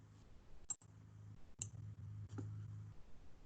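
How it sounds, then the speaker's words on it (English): Mouse clicks on a link on a computer, three sharp, faint clicks spaced roughly a second apart over a low steady hum. "So I'm going to click here."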